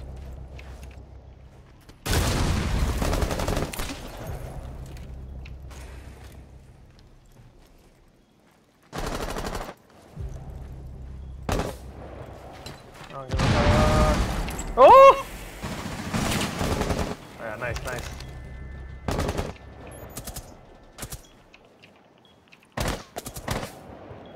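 Automatic gunfire in the video game Rainbow Six Siege comes in loud, dense bursts separated by quieter gaps, with several long sustained volleys and shorter sharp shots, while players talk over the action.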